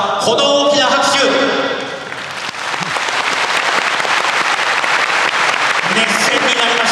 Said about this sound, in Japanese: 福岡国際センターからはこの大きな拍手。